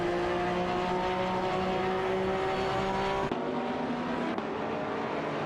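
Race cars in an AI-driven video game race hold a steady, loud engine drone throughout, with sustained whining tones that shift as one car passes another, a brief break near the end, and no talking.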